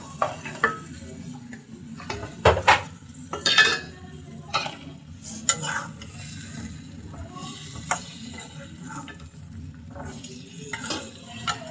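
Fried potatoes and tomato stirred into a pan for a fish curry, with irregular scraping and clanking of a utensil against the pan over a soft sizzle.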